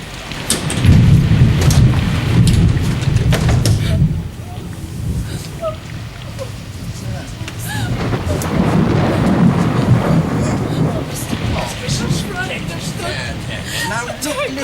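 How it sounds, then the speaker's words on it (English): A thunderstorm with rolling thunder over steady rain, one heavy rumble early and another swelling later, with voices talking quietly under the downpour. "Now, listen, it's only a thunderstorm."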